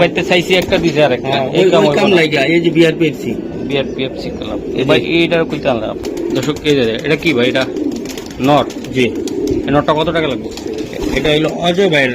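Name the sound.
racing pigeons cooing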